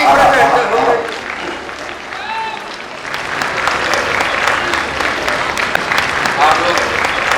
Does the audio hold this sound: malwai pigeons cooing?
no